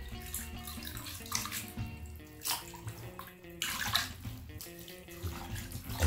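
Tap water runs and splashes steadily while greens such as wheat grass and chickweed are washed, a close, continuous rushing stream that surges and eases in uneven swells.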